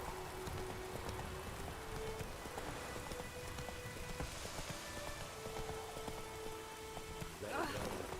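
Rain falls steadily in The Witcher 3, a constant hiss of drops on surfaces with faint tonal game sounds beneath and a brief sharp noise near the end.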